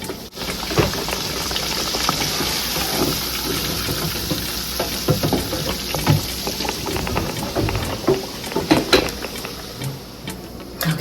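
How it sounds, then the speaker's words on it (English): Pork chops fry in hot grease with a dense, steady crackle and sizzle, close by, holding for about eleven seconds with scattered sharper pops and no talking. "Go ahead and drop them in your grease. Go ahead and add your pork chops in there."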